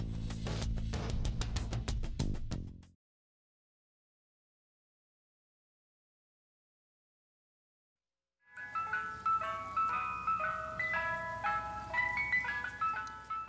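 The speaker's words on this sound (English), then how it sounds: "The ice cream truck. For many of us, it was game on when we heard that sound." An ice cream truck plays its tinkling melodic jingle after a burst of loud broadband sound and several seconds of silence. The tune is moderately loud and steady, with no talk over it.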